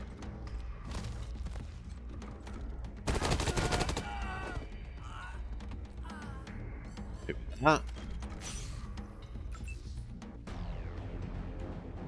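Turret gunfire in Wasteland 3 combat, a loud three-second burst of rapid automatic fire standing out from quieter game sounds, followed later by a single sharper blast.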